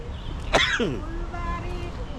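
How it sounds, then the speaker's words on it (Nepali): A single short cough or throat clear rings out near the start, followed by a moment of quiet background. "असाध्य खोकी लाग्यो"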